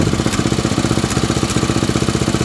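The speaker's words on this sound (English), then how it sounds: "So you guys can hear there's a slight miss in the engine every now and then." A 10hp Briggs & Stratton small engine runs close by with a fast, even chugging pulse and an occasional hiccup where it skips, steady in loudness with no voices.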